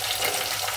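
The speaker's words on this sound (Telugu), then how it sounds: "పచ్చిమిరపకాయలు, ఉల్లిపాయలు కొద్దిగా వేగనిద్దాము." Green chillies and onions, with curry leaves, frying in a pan for a gongura chana dal curry, giving a steady, soft sizzle throughout a brief moment with no talk.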